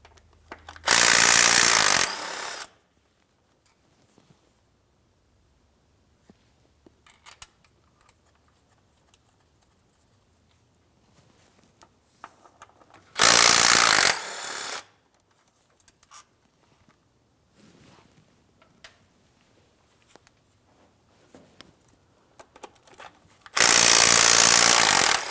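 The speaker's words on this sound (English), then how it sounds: "We'll fully remove the upper mounting bolt." Power tool or ratchet removing the upper mounting bolt of a transfer case shift motor on a 2007-2014 GMC Sierra 2500 HD 6.0L V8, three loud bursts of a couple of seconds each, separated by quiet gaps with faint handling noises.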